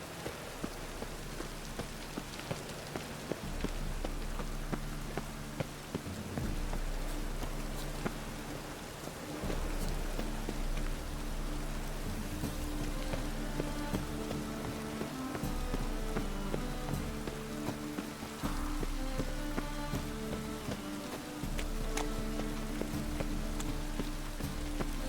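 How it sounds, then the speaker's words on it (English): Steady rain in The Witcher 3: Wild Hunt video game patters continuously on a surface, close and even, with a low rumbling undertone throughout. "Rain again."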